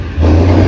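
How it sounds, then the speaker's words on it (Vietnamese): A 6GA 1000-horsepower fishing boat engine starts up and settles into a loud, close, steady roar with a strong low hum, heard alone without talk. "Động cơ 6GA 1000 mã lực đang gầm rú"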